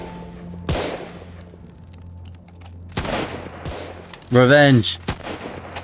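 Rapid gunfire bursts from a rifleman's gun in a game set around Irish resistance to the British Empire, loud sharp cracks scattered across the clip with a short spoken word over the shots.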